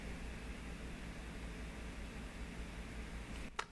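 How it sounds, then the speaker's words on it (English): Faint, steady room tone of hiss and low hum with no talk, broken near the end by one small soft click. "That's room tone."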